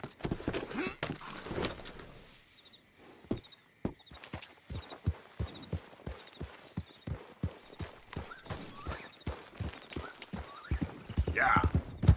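Horse hooves clop steadily in Red Dead Redemption 2 as a mount moves along, a rhythmic run of close hoof beats with occasional jingling tack, and a voice speaks briefly.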